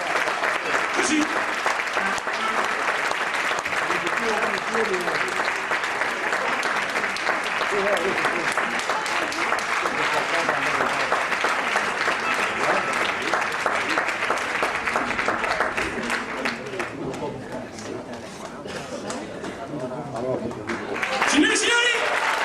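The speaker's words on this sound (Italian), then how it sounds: "bel applauso" An audience at a live tribute band concert applauds for the singer, a loud sustained wash of clapping that thins out near the end, with a voice speaking briefly over it.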